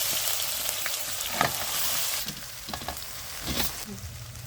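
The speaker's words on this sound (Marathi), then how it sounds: "लसूण बारीक करून एक गड्डा घातला आणि ही हिरव्या मिरच्या भाज्या आता ह्याच्यात टाकायच्या" Garlic and green chillies frying in oil with cumin for a village-style ambadi leaf vegetable dish, giving a steady close sizzle broken by a few scraping stirs of a spoon in the pan.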